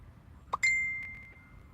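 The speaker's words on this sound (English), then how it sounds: "Somebody's texting me" A phone's text message notification sounds close by as a short ding that rings out and fades over about a second, after a small click.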